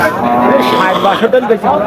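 A cow moos loudly and close by, a long drawn-out low call, amid the bustle and chatter of a crowded cattle market in Chaugachha.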